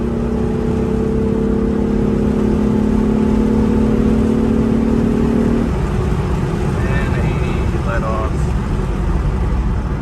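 A Honda J30 V6 engine with a J35 intake roars steadily under hard throttle in third gear, a strong low drone that holds then shifts as revs change into VTEC, with faint voices in the background.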